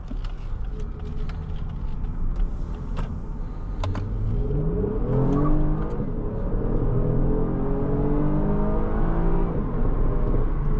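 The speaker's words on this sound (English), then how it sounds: "Nice sounding engine." A 2021 Lexus ES 350's naturally aspirated V6 revs up and accelerates, its rising whine climbing steadily over a loud, continuous rumble with no voices.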